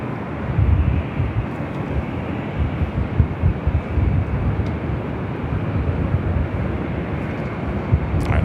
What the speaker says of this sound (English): This is Delta Connection 3759 SkyWest 105 Whiskey taking off to Sacramento on the E175.